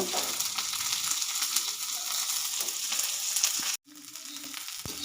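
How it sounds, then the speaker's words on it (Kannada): Onions, ginger and garlic fry in a little oil, a dense, steady sizzle up close with a brief cut partway through before the frying resumes. "ಈರುಳ್ಳಿನ ಹುರಿತಾ ಇದ್ದೀನಿ ಸ್ವಲ್ಪ ಎಣ್ಣೆ ಹಾಕ್ಕೊಂಡು ಈರುಳ್ಳಿ ಹುರ್ಕೊಳ್ಳೋಣ"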